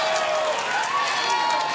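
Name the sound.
crowd cheering and applauding at World's Strongest Man stone event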